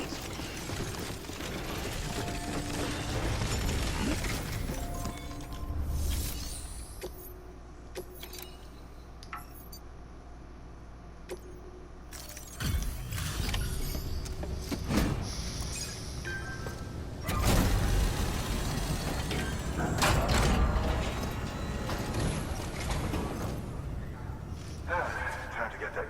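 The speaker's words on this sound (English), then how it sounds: "Decontaminating suit." Suit decontamination machinery in the Death Stranding video game clanks and rattles with mechanical jangling and whirring bursts over about half a minute, under a synthetic voice speaking.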